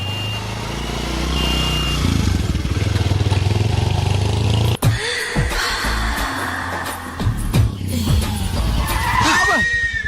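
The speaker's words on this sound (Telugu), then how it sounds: "అదేంటంటే అన్సడన్ బ్రేక్ వేశారు" A vehicle brakes suddenly and skids in a Telugu comedy scene, with a loud, busy, noisy mix, an abrupt cut midway and a rising squeal near the end, with voices in the background.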